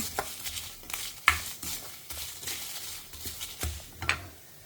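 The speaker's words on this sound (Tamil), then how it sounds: "நான் இப்போ கருவேப்பிலை போட்டுக்கிறேன். இதோடு சேர்த்து வத்த மிளகாயும் போட்டுக்கிறேன். இன்னும் நல்லா செவக்க வறுத்துக்கலாம்." Spices roast with curry leaves and dried red chillies in a pan, giving a faint dry stirring and scraping with light sizzling and occasional soft clinks of a utensil against the pan.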